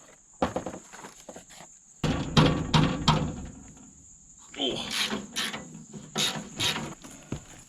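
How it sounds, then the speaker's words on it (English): Gear wrench socket set ratchet being worked on a 1957 Autocar truck, giving bursts of fast metallic clicking and clattering in uneven clusters, fairly close, with a steady high whine running underneath throughout. "How tough is a gear wrench socket set?"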